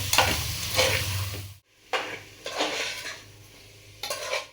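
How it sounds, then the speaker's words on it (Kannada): Chicken and tomatoes fry in a pan for a kids' biryani, with a steady sizzle broken by scraping stirs of a metal utensil and brief clanks against the pan, close and without speech. "ಇವಾಗ ಇದನ್ನು ಫ್ರೈ ಮಾಡ್ತೀನಿ"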